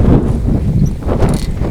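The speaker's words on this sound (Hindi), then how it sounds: "अब तेज़ हवाएं चल रही हैं" Strong, steady wind blows outdoors in the aftermath of a dust storm, a loud continuous rumbling gust with rustling throughout and no voices.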